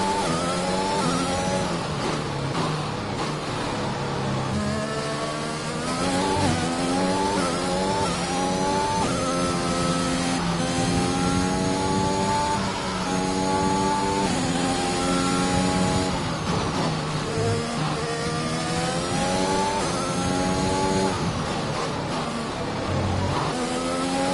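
Formula 1 race car engines in the F1 2021 video game whine continuously at high revs, with the pitch climbing through each gear and dropping sharply on every shift, over a long unbroken stretch with no talk.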